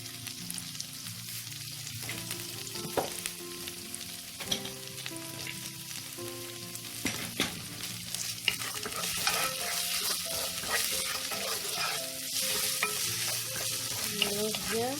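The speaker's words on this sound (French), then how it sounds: "Je mélange bien." Potato soup base being stirred in a pan, a spoon scraping and clinking against the metal over a steady sizzle, with occasional sharper knocks throughout.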